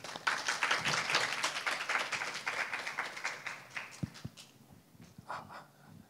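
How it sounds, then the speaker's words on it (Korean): Conference audience applause welcoming a speaker, a brisk burst of clapping that fades out after about four seconds, followed by a few knocks and faint stray claps. "큰 박수 부탁드립니다."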